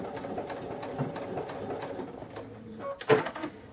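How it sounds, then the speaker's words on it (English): A sewing machine whirs in a quiet, continuous rhythmic run while backstitching at the end of a seam on a DIY hanging towel, ending with a brief louder clunk. "make sure you backstitch again at the end."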